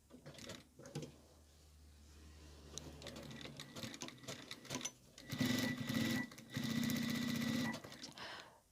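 A sewing machine stitching fabric for a kitchen mitt, a close rapid mechanical whir in bursts with pauses and handling clicks between, rising to longer, louder runs of stitching near the end.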